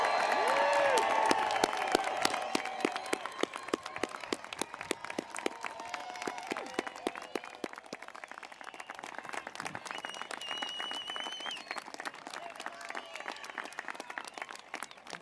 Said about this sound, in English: One more big round of applause, some loud voices. Let's make some noise for the class of